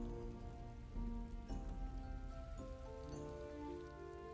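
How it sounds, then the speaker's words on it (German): Steady rain patters in the medieval strategy game The Settlers: Heritage of Kings (Die Siedler 5), a soft continuous wash of drops on surfaces with faint tonal game music underneath and no talk. "warten, bis der Regen vorbei ist."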